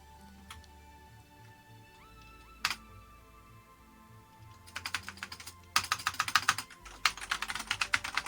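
Keys clatter on a worn Commodore Plus 4 home computer keyboard whose keys are faulty, a few isolated clicks and a beep at first, then bursts of rapid close typing that grow louder and denser.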